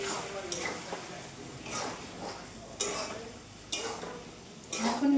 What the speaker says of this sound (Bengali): এখন ভেজে কষাচ্ছি